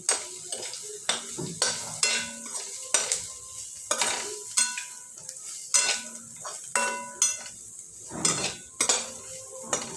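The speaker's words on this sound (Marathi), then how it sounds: "त्यात आता हळद घालू आणि व्यवस्थित परतून घेऊ" Onion with turmeric sautéing in a pan, with a spatula scraping and clanking against the metal in a steady rhythm of about a dozen strokes over a continuous sizzle, close and clear, with no voice.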